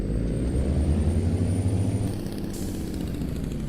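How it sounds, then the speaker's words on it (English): Low, throaty rumble of a Mack 700 truck engine braking in American Truck Simulator, steady and close, easing slightly in level partway through, with no talk over it. "Yeah, the Jake brake sounds funky."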